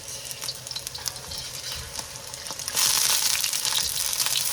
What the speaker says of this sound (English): I'm stir frying it for the past 1 or 2 minutes